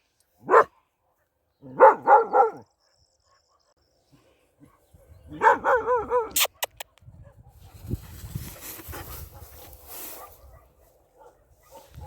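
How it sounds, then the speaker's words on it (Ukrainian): A dog barks in short bursts, a single yelp then a quick run of three barks, later another volley of several barks, close and loud outdoors in a rural yard near cows, followed by quieter rustling and scuffling. "Не гавкай, коров розлякаєш."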